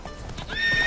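Hooves of Roach, the horse in the video game The Witcher 3, clip-clop steadily through a short galloping stretch, close and fairly loud, with a whinny-like tonal cry rising near the end and no talking.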